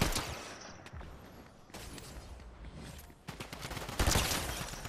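Sustained, fairly quiet video-game gunfire during a team firefight, bursts of rapid shots blending into a continuous crackling volley that swells louder toward the end, with no talk over it.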